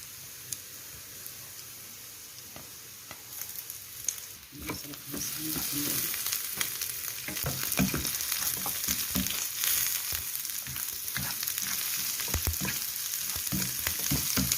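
Chicken gizzards and liver fry in a hot pan for rice-stuffed pigeon, a quiet sizzle that swells into steady loud crackling and spitting about four seconds in, with stirring clatter over it and no talking.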